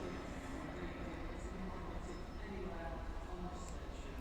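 A steady, low rumble from an LNER train running from Newcastle to London King's Cross at Doncaster station on the East Coast Main Line, continuous and fairly close, with faint squeals above the drone.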